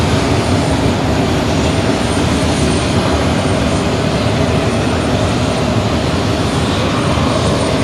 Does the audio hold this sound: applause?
no